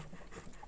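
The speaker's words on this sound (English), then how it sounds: "you can hear my dog panting in the background" A dog panting softly and steadily in a quiet room, a brief continuous breathy rhythm.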